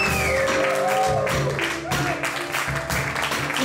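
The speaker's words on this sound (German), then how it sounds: "Applaus." Audience applause at the end of a jazz concert in a studio, a steady dense clapping from a moderate crowd, fairly close and continuous with slight swells.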